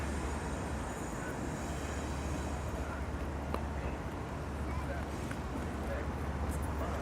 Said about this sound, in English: This might take a while. It's a big freight train.